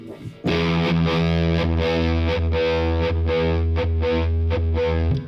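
An electric guitar played through a fuzz pedal with a vibe effect rings out in thick, distorted sustained notes with a swirling, wavering modulation and repeated strummed attacks, loud and with no talking.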